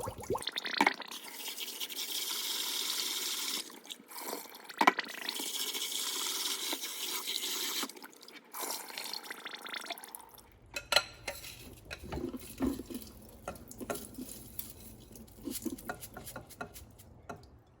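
Jasmine rice swished and rinsed in a pot of water by hand, a steady wet rustling and sloshing with scattered small clinks, loud and close, then thinning into softer intermittent splashes.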